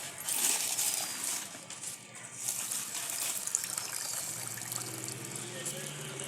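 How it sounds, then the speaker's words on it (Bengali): Water splashes and gushes into a hot pan of sugar for gulab jamun syrup, a steady close pour lasting several seconds, with a voice faintly present. "যতটাই চিনি নিয়েছি ততটাই জল দিলাম।"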